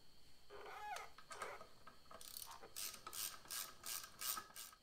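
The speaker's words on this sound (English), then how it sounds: "we can actually tighten it up with a 12mm socket" A ratchet with a 12mm socket tightening the front brake bolts on a Honda Africa Twin motorcycle, giving a quick run of close, crisp clicking ratchet strokes after some metallic handling.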